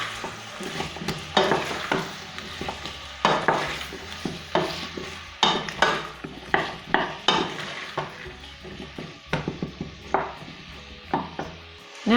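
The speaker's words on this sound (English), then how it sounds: "And give that a stir." Soup ingredients, including potato, stirred in a pot: a steady run of scraping, clinking strokes with a light sizzle underneath, close and fairly loud, with no voices.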